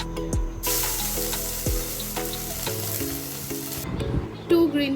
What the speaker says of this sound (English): We will add a little bit of ginger garlic crushed to the oil.